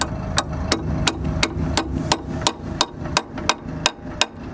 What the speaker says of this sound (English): This is why we need a hammer.